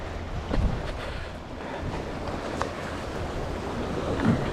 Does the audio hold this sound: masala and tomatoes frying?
no